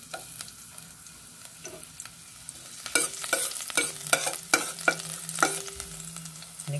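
Garlic fries in a little oil with a soft, steady sizzle, broken by sharp clicks and scrapes of a utensil stirring the pan up close.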